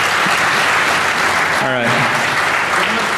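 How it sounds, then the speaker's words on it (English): A DEF CON hacker conference audience applauds for first-time speakers: loud, dense clapping fills the room while someone briefly speaks over it. "How about a round of applause for these guys?"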